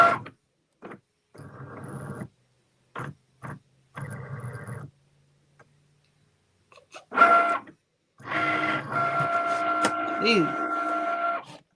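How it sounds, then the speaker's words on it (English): A Cricut cutting machine works through a magnet sheet in short, intermittent mechanical whirring bursts with pauses in between, then runs for a longer stretch; a person briefly speaks partway through. "Cricut, just cut the magnet, Cricut."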